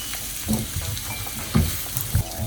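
Frozen mixed vegetables sizzle and fry in a wok while a utensil stirs them, with three louder scraping thumps spaced through the steady hiss, close and alone without talk.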